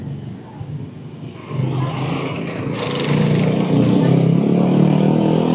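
Road traffic passing a hotel in Mauban, Quezon Province, heard from a second-floor room: a steady, rising wash of car and motorcycle engines that grows louder and denser toward the end, with no voices.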